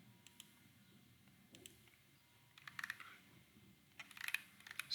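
Soft, quiet keystrokes tap on a computer keyboard, scattered at first and then clustering into short bursts of typing, close by in an otherwise hushed room.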